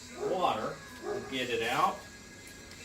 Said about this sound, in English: Apologize for the dog barking in the background.